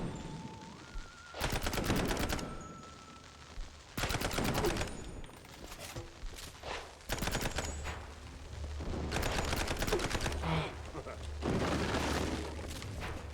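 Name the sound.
gunfire in the video game Mouse P.I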